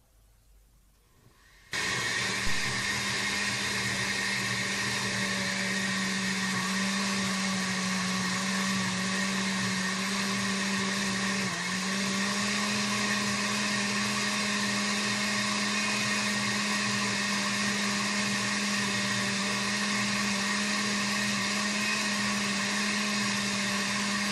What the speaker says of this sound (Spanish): vamos a agregar nuestro último puñito de espinacas y vamos a terminar de licuar